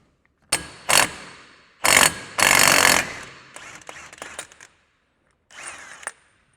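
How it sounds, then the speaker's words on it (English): An impact wrench removes bolts from a CFMOTO CForce ATV wheel in several loud, close, rattling bursts separated by short pauses, ending in quieter clicks and a final short burst. "So I'll use an impact for this."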